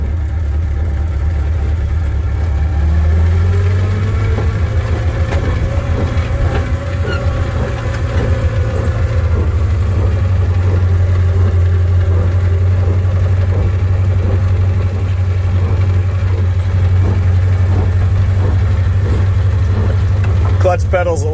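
A 1959 Morris Minor Traveller woody station wagon, a barn find, idles and runs smoothly with a steady low engine hum throughout, close and loud, with someone talking over it.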